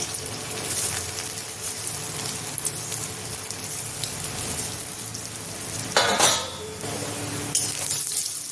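Soybean kofta balls frying in hot oil make a continuous bubbling sizzle, with a brief louder splash-like burst midway and light clinks of utensils, and no one speaks.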